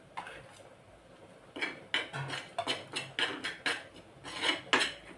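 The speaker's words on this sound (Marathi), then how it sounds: "ज्वारीचं पीठ आधी भाजून घेते" Jowar (sorghum) flour being dry-roasted in a pan in a home kitchen, with a spoon scraping and stirring in a run of short, irregular metallic rasps and clinks, close and fairly quiet.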